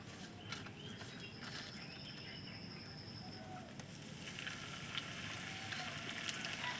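Henna leaves hiss and sizzle in hot oil while homemade hair oil cooks: a faint, steady frying crackle that swells slightly toward the end.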